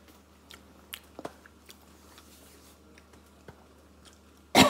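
Someone chews a bite of spicy tapioca to taste it, with a few faint soft crunches and bites spread over several seconds, then a loud burst of noise at the end.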